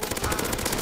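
Rapid automatic gunfire bursts from a weapon in the video game Counter-Strike: Source, Zombie Escape mode, a dense, loud rattle of shots filling the short moment without pause.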